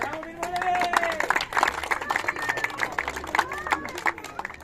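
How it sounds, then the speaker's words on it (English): An audience applauds at a cricket tournament awards ceremony, with sustained dense clapping from a crowd throughout and a voice talking over it. "let's give a big round of applause"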